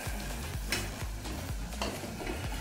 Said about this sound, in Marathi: एकदम असं शांत मंदपणे कुक होण्याचा आवाज येतोय